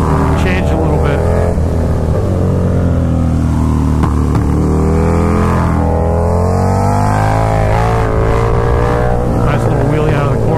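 A KTM Super Duke motorcycle accelerating hard out of a corner on a road and lifting into a wheelie, its engine roaring loud and close with rising, sweeping revs and brief dips at gear changes.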